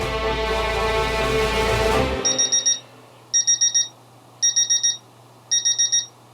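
An alarm clock rings in repeated bursts of rapid electronic beeping, about four bursts spaced roughly a second apart, loud and close, following a brief swell of music.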